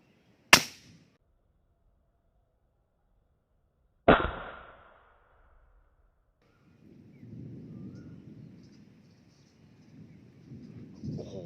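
A CZ 457 rifle fires at a large snakehead fish, giving two sharp, loud cracks several seconds apart. Each crack is followed by a brief decay and then quiet, and faint rustling and water noise come in afterward.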